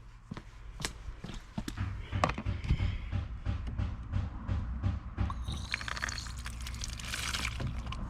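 Water poured in a thin splashing stream into a small old pot, a soft near trickle lasting several seconds amid light clinks and handling noises.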